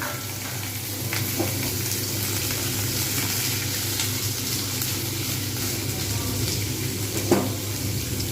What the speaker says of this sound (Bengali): পেঁয়াজ এবং আলু একসঙ্গে ভাজা হতে থাকবে